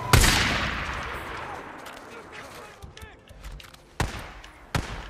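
Gunshots from a firearm in the video game Days Gone: one loud, sharp blast with a long decaying tail, then two more sharp shots a few seconds apart, all close and punchy.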